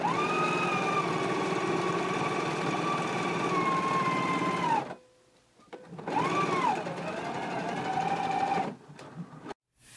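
A domestic sewing machine stitching a collar seam at a 3/8-inch allowance, running in a loud, even whir close by, stopping briefly, then starting again and running until a final stop.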